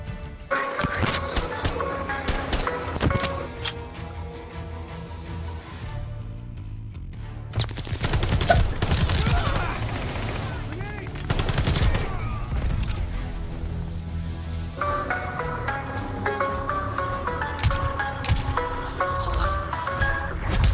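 Call of Duty gameplay with bursts of rapid gunfire and sharp shots crackling over game music and effects, loud and continuous with a brief lull partway through.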